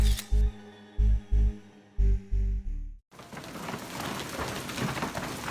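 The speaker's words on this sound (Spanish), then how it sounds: "pero es el granizo que cayó en Colorado en agosto de 2018" Hail falling in Colorado in August 2018 becomes a dense, steady rain-like pattering from about three seconds in, following an opening of loud, rhythmic musical beats.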